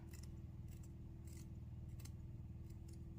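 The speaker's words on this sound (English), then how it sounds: "I got to use my smaller scissors. Then you got to clip in that point." Small scissors clip fabric for a handmade gnome: several quick, crisp snips come in irregular bursts over a constant low background hum.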